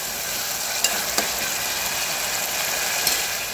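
Masala paste for jackfruit biryani sautés in a pan with a dense, constant sizzle, and a few light scrapes mark the stirring.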